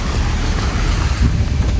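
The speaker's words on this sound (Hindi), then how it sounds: "यहाँ पे भी वो ऊपर से दिख रहा है झरना" A jungle waterfall near a village path, swollen by monsoon rains, gives a loud, steady broadband rush of falling water mixed with wind buffeting the microphone, with no voices.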